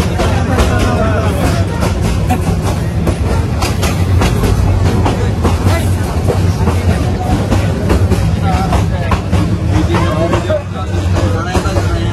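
An overcrowded passenger train in Bangladesh rumbles along loudly from inside a carriage, with steady rattling and clickety-clack of the wheels and a crowd of voices murmuring beneath.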